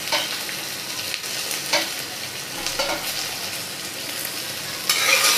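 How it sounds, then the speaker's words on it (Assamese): Chopped onions and whole cumin frying in a hot pan, a close, steady sizzle broken by scraping stirs at regular intervals and a louder hiss near the end. "কাটি থোৱা পিঁয়াজখিনিও দিলোঁ।"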